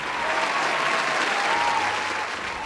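A graduation audience applauds the parents, producing a continuous, full burst of clapping from a large crowd, loud and even across the whole moment.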